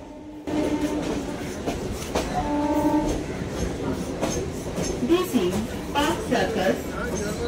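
A Sealdah–BBD Bag local train in motion, rumbling and clattering steadily over the rails with rhythmic clicks and a brief tonal whine, loud and close, with people talking in the background.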